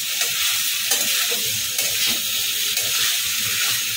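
Chickpeas for a spiced masala chana with chopped coriander are stirred continuously in a dry pan with no water, giving a steady close sizzle and frying hiss with repeated scraping strokes of the spoon.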